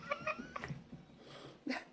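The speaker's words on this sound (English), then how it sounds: "My cats are running around while I'm videotaping." Cats indoors in a house give a few faint short meows in quick succession, with light scuffling in the background and a brief voice.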